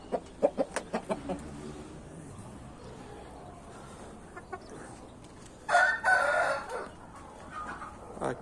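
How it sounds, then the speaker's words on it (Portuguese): A red rooster on a backyard poultry farm crows once, loud and close, late in the clip. Several sharp clucks and knocks come earlier against a quiet outdoor background. "Tá o galo vermelho"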